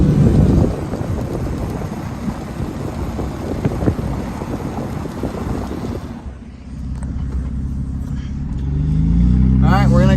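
A freshly rebuilt 1995 Ford Taurus engine runs while the car is driven, a loud steady rumble under heavy wind buffeting that eases off midway, then swells again, with a voice briefly heard at the end.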